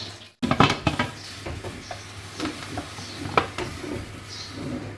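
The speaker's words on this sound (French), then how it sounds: "Alors on pose la cocotte au feu et on le couvre de son couvercle." A pressure cooker is set down on a stove and covered with its lid: a sharp metallic clank followed by several lighter clinks and knocks, close and moderately quiet.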